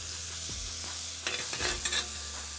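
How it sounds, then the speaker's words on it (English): Pastrami sizzles on top of a burger on a hot griddle with a steady hiss, punctuated by a few brief crackles and scraping sounds partway through. "A nice sizzle there."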